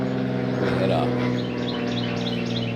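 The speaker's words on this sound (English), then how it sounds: "we got plenty of birds making all kinds of noise" Birds chirp in short repeated calls outdoors, faint behind a steady low hum and a murmuring voice.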